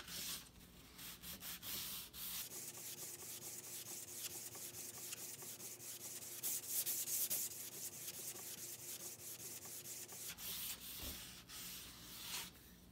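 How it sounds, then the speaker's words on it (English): 220-grit sandpaper rubs over a balsa wood glider, a 12-inch Sandpiper, in quick, continuous back-and-forth strokes, close and steady, briefly easing before picking up again, with no voices. "I use my smaller sandpaper, 220 grit, and I want to sand just right here"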